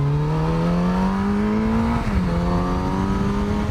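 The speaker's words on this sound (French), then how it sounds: "Oh ce bruit. Cette moto est incroyable parce qu'elle fait un gros bruit." A Kawasaki Z900RS motorcycle engine revs steadily nearby, its pitch climbing, dipping briefly, then rising again, loud and continuous throughout.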